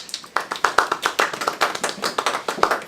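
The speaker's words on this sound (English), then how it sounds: "Please give a big applause to the famous actress Sofia Vergara." A studio audience claps for an arriving guest, a short burst of sharp, uneven hand claps close by and fairly loud, with no voices over it.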